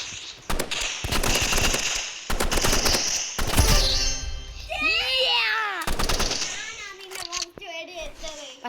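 Gunfire in the online shooter game Rivals comes in loud, rapid bursts separated by short gaps, and a young voice talks over the later shots.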